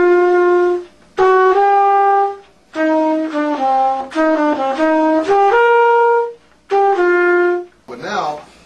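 A jazz melody, played straight and unswung on a single melodic instrument, likely trumpet, in even, flat phrases with short pauses between them, alone without accompaniment.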